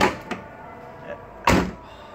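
A 1994 Toyota Kijang Grand Extra KF50 door shuts with a solid, heavy thunk up close, preceded by a couple of lighter clicks and knocks from the latch.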